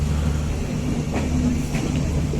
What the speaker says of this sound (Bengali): বেনাপোল থেকে ছেড়ে আসা আন্তনগর বেনাপোল এক্সপ্রেস ট্রেনটি এখন যশোর জংশনে প্রবেশ করছে।